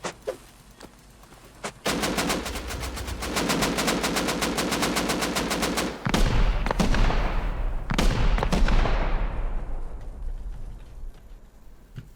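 Gunfire in the survival video game Rust: a long burst of rapid automatic fire, then further loud shots and sharp blasts that ring out and fade, with no talking.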